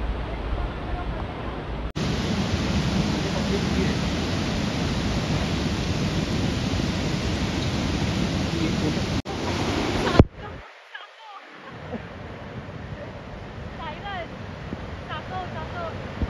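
Rushing waterfall water on the Devkund trek in the Sahyadri hills, a loud continuous roar that cuts off abruptly partway through, then gives way to quieter outdoor ambience.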